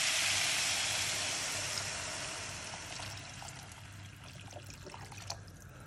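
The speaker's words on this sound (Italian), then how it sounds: "aggiungiamo l'acqua." Water is poured into a hot pan of pasta and potatoes cooking with chili, a loud hissing sizzle and rush that gradually fades into softer bubbling and trickling.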